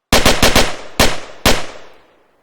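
Gunfire from a vehicle in the Arma 3 IFA3 mod game: a quick burst of four loud shots, then two spaced single shots, each followed by a decaying echo.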